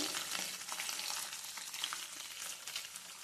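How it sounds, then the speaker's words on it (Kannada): Onion with cumin and greens frying steadily in a pan, a continuous close bright sizzle with small crackling bursts throughout and no voices. "ಕೊರಬೆ ಸೊಪ್ಪು ಹಾಕಿದ ಮೇಲೆ ಅದನ್ನು ಸ್ವಲ್ಪ ಜೀರಿಗೆ ಆಮೇಲೆ ಈರುಳ್ಳಿಯನ್ನು ಹಾಕ್ತಾ ಇದ್ದೇನೆ"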